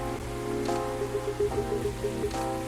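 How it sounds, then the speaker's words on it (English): Pouring rain in the video game CoffeeTalk makes a steady hiss of falling drops, heard alone under a soft tonal music bed with faint repeating notes. "It's pouring rain again."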